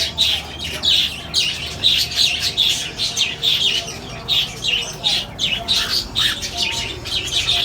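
A flock of cockatiels squawks and chirps in rapid, repeated bursts at a parrot breeding farm in Jeddah, Saudi Arabia, a dense, close chorus of shrill calls that continues without pause.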